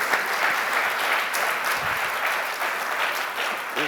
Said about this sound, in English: I would clap that.